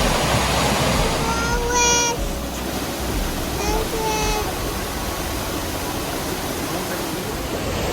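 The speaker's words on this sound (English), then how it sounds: "Creek is rolling, got quite a bit of water." A rushing creek running high on the trail to a waterfall at Petit Jean State Park, Arkansas, gives a steady broadband roar throughout, with a few brief voices faintly over the water.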